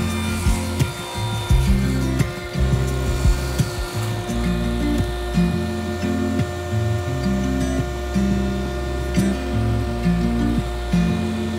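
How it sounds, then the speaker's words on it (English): Repeated rubbing and scraping of wood being sanded, with a steady mechanical hum underneath and uneven strokes throughout; no talking. "I'm sanding the inside pieces so that it's a lot easier to sand now"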